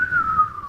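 A person whistles one clear, close tone that slides slowly downward and holds for under a second, loud and alone without talk.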